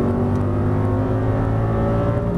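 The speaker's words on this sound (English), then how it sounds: "squeeze into the throttle all the way down, beautiful" Audi R8 racing at Las Vegas, its engine at full throttle with a loud, steady, close roar that holds constant throughout, no talk over it.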